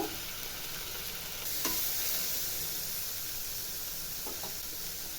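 Bitter gourd frying with turmeric, salt and hing, stirred in a steady sizzling hiss, with a couple of scraping stirs cutting through near the middle and end.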